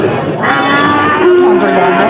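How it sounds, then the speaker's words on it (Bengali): A Pakistani breed calf at a roadside cattle market lets out a loud, drawn-out moo close by, with crowd noise underneath. "কি জাতের বাছুর পাকিস্তানি জাতের বাছুর"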